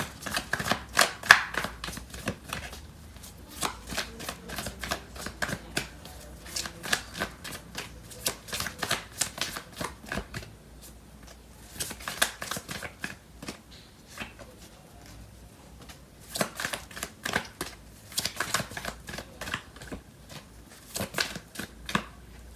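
Tarot cards being shuffled by hand, with repeated bursts of crisp riffling and slapping in uneven clusters separated by short pauses, close and fairly quiet throughout.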